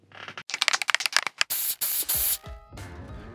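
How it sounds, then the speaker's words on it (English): Red spray-paint rattle can used outdoors on miniatures: a burst of rapid rattling clicks as it is shaken, then a loud, close, sustained hiss of spray lasting about a second before it cuts off. "We'll get outside and give them a spray"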